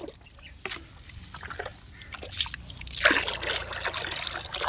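Liquid fertilizer poured into water and mixed for feeding tomato plants, heard as close trickling and sloshing with scattered drips, growing louder and busier toward the end.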